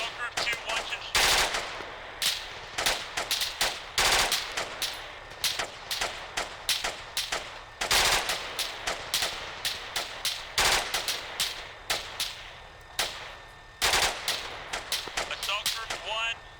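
Rifle and machine-gun fire during a military field exercise sound as sharp outdoor cracks, single shots mixed with short rapid bursts that echo off a tree line, loud and close.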